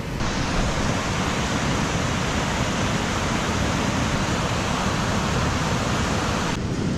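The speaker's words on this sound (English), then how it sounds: "Apologise for the sound of the river" Steady, loud rushing of a river flowing close by near Pinchot Pass on the Pacific Crest Trail, a constant broadband roar with no pauses and no voices.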